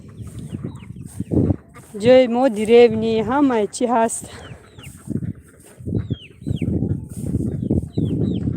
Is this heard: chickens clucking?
yes